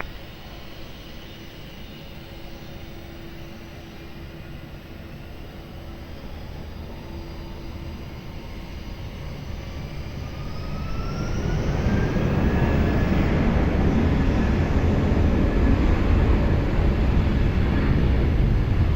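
An airliner taking off at Lisbon Airport: a distant engine hum swells into a loud, broad roar as power builds, with a rising whine over it, and the roar stays sustained to the end.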